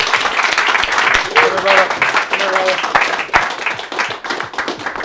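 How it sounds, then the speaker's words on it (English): A round of applause for a guest at a business talk: lively, dense clapping from a crowd with whoops and voices mixed in, continuing steadily throughout. "Let's give him a round of applause."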